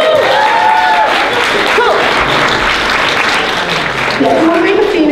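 Applause from an audience at a charity auction and closing ceremony, a steady broadband clatter of many hands filling the clip, with a voice speaking briefly over it.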